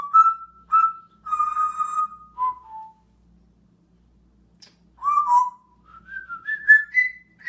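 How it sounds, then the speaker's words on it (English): A pet talking bird whistles a series of clear, close tonal notes, some short and repeated, then a rising run of whistles after a brief pause. "You singing bird."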